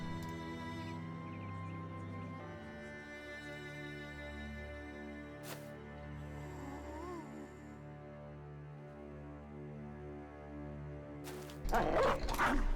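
A dog in the video game Reforged yips and barks under a steady low musical drone, the barks faint and scattered, with a louder burst near the end.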